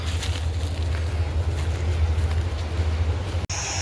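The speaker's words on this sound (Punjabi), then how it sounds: "ਹਵਾ ਚੱਲਦੀ ਆ" Steady low rumbling wind noise roars throughout at a village farm pump site during maize harvesting, with a broad hiss on top and a brief sharp click near the end.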